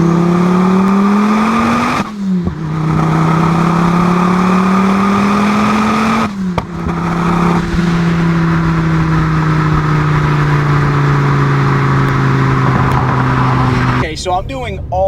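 A turbocharged five-cylinder Volkswagen accelerating hard through the gears, a loud droning engine note rising in pitch, dropping at two quick shifts, then pulling steadily. A person talks over the engine noise.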